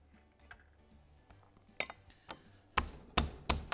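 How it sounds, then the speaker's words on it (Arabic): Garlic cloves pounded for a grouper fish kebab, a series of sharp, hard knocks of increasing loudness with short clinking impacts, close and without talk. "ادق الثوم بهذا الشكل"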